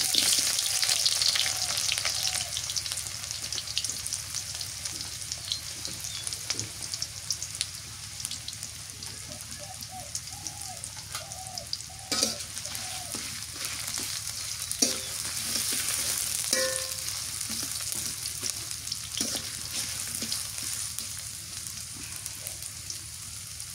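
Chopped onion frying in a pan of hot oil for a village-style mutton and potato curry, a steady close sizzle running throughout with occasional stirring clatter and faint water-like patter.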